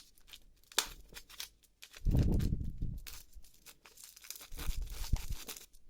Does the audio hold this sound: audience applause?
no